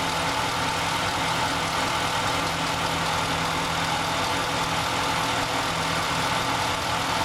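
A Dodge Dakota with a fault that makes it shut off while driving idles steadily, its even engine drone and low hum holding constant with no talk over it.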